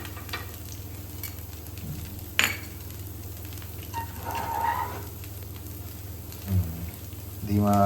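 Farali dosa fries on a hot pan with only drops of oil, giving a soft, continuous sizzle. A sharp click and a few faint tonal sounds cut through near the end.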